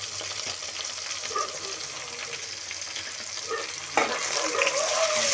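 Onion, tomato, curry leaves and a pinch of turmeric fry and sizzle in a pan while being stirred, a steady close hiss with a slightly louder burst of frying near the end.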